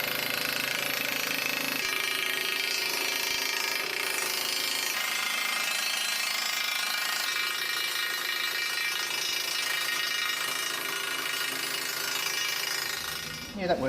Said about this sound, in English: All this is rusted into the ball bearings. So I'm going to try and rattle this loose